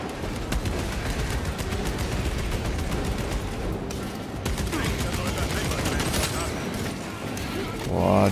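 Dense, continuous gunfire fills a Warhammer 40k Space Marine 2 battle as Tyranid enemies shoot down from above, with rapid overlapping shots and bursts close by while players talk throughout.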